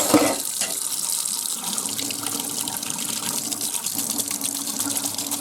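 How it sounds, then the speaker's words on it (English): Hot water runs steadily from a tap into a sink, a continuous close splashing flow that starts at once and holds for several seconds with no talking. "a little hot water"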